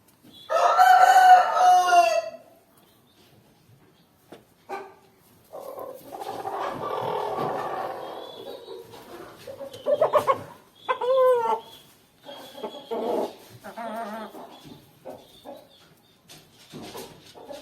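Chickens and a rooster in a new coop: a rooster crows loudly near the start and again midway, with scattered clucks and hen chatter in between.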